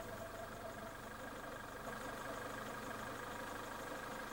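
A Rover 213 car engine idles steadily after an idle speed and CO mixture adjustment, a continuous low hum with a faint rhythmic knock, close and unbroken throughout.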